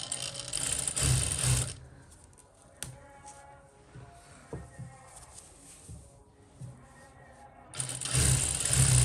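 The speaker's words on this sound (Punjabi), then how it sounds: "ਤੇ ਇੱਥੇ ਆਪਾਂ ਇੱਕ ਸਲਾਈ ਲਾਵਾਂਗੇ ਜਿਹੜੀ ਜਿੱਥੇ ਆਪਾਂ ਤਰਪਾਈ ਕਰਨੀ ਸੀ" Domestic sewing machine stitching a lining seam along a kameez hem, whirring loudly in two bursts at the start and end with quieter handling sounds between.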